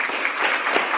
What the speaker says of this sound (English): Y'all can applaud.